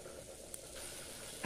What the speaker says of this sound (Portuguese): Aí aqui eu vou deixar ele continuar fritando aqui